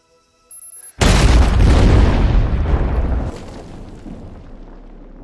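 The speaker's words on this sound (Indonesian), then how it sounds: "ledakan tersebut menghempaskan Bond" A huge explosion in a James Bond film bursts after a brief quiet lead-in, a deep booming roar that rumbles on for a couple of seconds before fading into a lower lingering tail.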